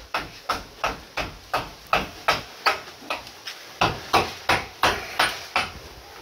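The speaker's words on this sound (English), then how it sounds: "We always hit these with a piece of wood, never hammer" Sharp wooden knocks strike steel form ties on a beach house build in the Philippines, about two blows per second in a steady run of roughly fifteen close, crisp hits with no talking.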